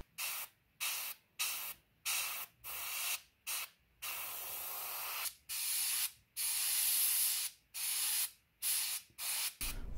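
Airbrush bursts of flat varnish sprayed onto a 1/72 MiG-17 PF scale model, over the walkways and green nose areas: about fifteen short hissing blasts of varied length broken by brief pauses, close and steady, with no talk.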